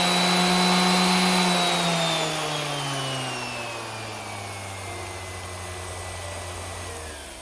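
An electric disc sander's motor runs with a loud whine that slowly falls in pitch and fades as it is turned down, close and without talking.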